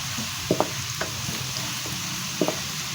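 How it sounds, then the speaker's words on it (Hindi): Chopped onions frying in hot oil for a turnip and pea curry: a steady close sizzle with a few soft stirring knocks from a spoon against the pan. "तो ये देखिए प्याज इतनी जल्दी फ्राई होता है ना"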